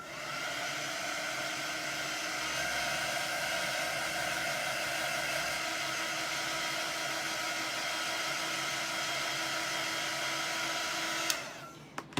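A hair dryer blows steadily and loudly while drying chalk paste on placement tape, a constant whooshing whir that clicks off near the end.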